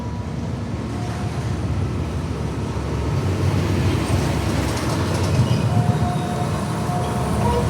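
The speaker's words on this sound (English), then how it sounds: "Here comes the train." The empty Twisted Cyclone roller coaster train rumbles past on a test run at Six Flags Over Georgia in Austell, giving a steady rolling clatter with faint squeals that grows slightly louder as it nears.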